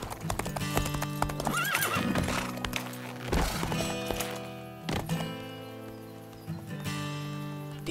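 A young stallion neighs on a ranch with a loud, close whinny, heard alongside repeated hoof clip-clops and a few thuds across the clip.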